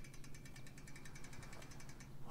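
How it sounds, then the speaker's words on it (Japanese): A bicycle sound effect from the idol game Shiny Colors: a rapid, steady ticking like a freewheel, with evenly spaced bright clicks over a low hum, continuing alone for about two seconds. "自転車の音。"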